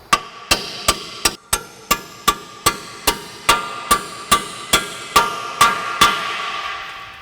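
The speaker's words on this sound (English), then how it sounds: "you might have to tap it a couple of times like I did to try to get it to fit in there correctly" A hammer taps a rear wheel bearing into place on a 2004 Ford Explorer, giving about fifteen sharp, evenly spaced metallic blows, close and loud, followed by a fading ring.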